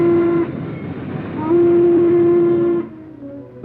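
A Norfolk and Western steam locomotive from the 1950s sounds a long, loud whistle blast, breaks off briefly, then sounds it again over the rumble of the running train.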